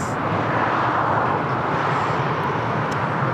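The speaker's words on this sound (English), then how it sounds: "That was Aerowings to Düsseldorf using the Airbus A320." An Aerowings Airbus A320 at Lisbon Airport bound for Düsseldorf, heard as a loud, steady broadband jet engine roar, close and continuous with no voices.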